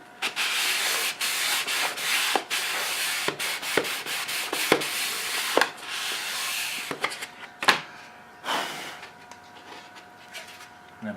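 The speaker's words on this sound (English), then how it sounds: "simply means doing a bit of sanding along" Repeated rubbing strokes of sandpaper along a wooden edge, close up, come in uneven bursts with short pauses and a few light knocks between them.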